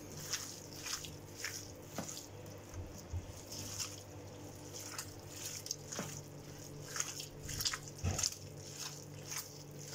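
Lahmacun meat mixture spiced with cumin is kneaded by hand in a bowl, giving soft, wet squishing and slapping sounds in irregular bursts up close, with no talking.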